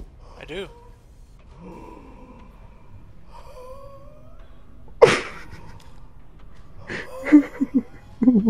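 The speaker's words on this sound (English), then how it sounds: "Why is there breathing?" Breathing in a video game, faint and intermittent: soft gasps and snort-like breaths scattered across a quiet scene, with a sharp loud burst midway and a few clustered sounds near the end.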